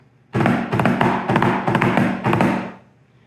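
A snare drum plays two double drags in a row, each main hit preceded by soft grace notes, crisp and close with no talking.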